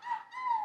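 A voice imitates a wolfdog's howl, a short rising and falling wail in two quick bursts, close and clear with no other sound.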